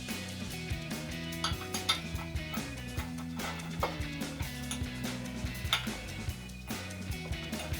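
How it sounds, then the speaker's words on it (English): Flat washers, lock washers and nuts clink onto the steel studs of a Jeep Gladiator JT step bar bracket, scattered light metallic taps and chinks, close and fairly quiet, with no talking. "on each of those studs, we're going to put a flat washer, lock washer, and nut"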